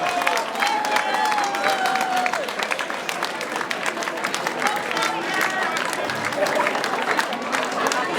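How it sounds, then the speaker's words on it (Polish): Steady applause fills a New Year's Eve ball, a dense, sustained patter of many hands clapping at moderate distance, with a voice speaking over it through a microphone. "Wielkie brawa dla naszych przyszłych"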